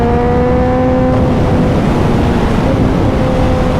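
A high-performance motorcycle on a ride from Glasgow to Oban gives a loud, steady engine drone with a faint tonal hum, buried in a heavy rush of wind throughout.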